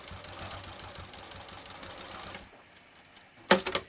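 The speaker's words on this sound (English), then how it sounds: "we're just going to sew this" A sewing machine runs a steady rapid stitch along a wallet seam with a 1/4 inch foot, whirring for a couple of seconds before stopping, followed by a few sharp clacks.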